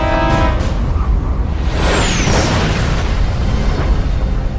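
A single 1,700-pound armor-piercing shell strikes and plunges through the battleship Hood, a loud, sustained explosive roar with heavy low rumble and a brief whistling streak, filling the whole moment without speech.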